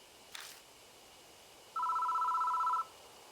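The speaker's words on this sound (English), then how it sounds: "The phone is ringing." In the horror game Death Mark, a short click is followed by a telephone ringing once, a steady electronic trill lasting about a second against quiet background hiss.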